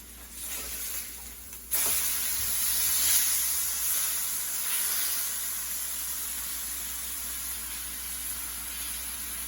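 A burger patty sizzles on a hot grill, a steady hiss that jumps louder when the meat is flipped, then settles into a constant bright crackle close by.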